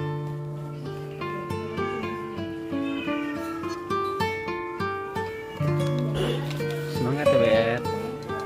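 Several cats meow at an animal clinic where they are being treated, one on an IV drip, with repeated plaintive cries over a busy, tonal background and some rising, drawn-out wails toward the end.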